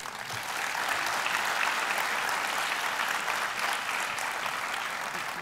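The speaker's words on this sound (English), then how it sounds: "now I will demand an applause" An audience at a talk on science and innovation in India breaks into sustained, even applause, a dense wash of clapping that holds steady throughout.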